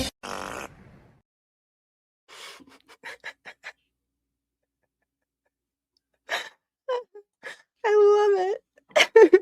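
A short played-back comedy clip with a fart sound amid brief bursts of voices and sounds separated by silences, ending in a wailing, squeaky stretch.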